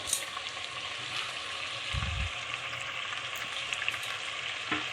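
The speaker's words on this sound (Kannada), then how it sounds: "ಅರಿಶಿನ ಹಾಕಿ ಮಟನನ್ನು ಚೆನ್ನಾಗಿ ಐದು ನಿಮಿಷ ಫ್ರೈ ಮಾಡಿ" Mutton frying in a pan with turmeric and salt for a mutton roast gives a continuous, even sizzle and hiss close by, with a brief low stirring scrape partway through and no talk.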